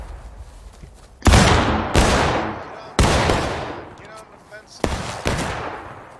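Volleys of black-powder musket fire from the Civil War battle game War of Rights, four sharp loud blasts with long echoing decays, spaced about a second apart, while players call out orders.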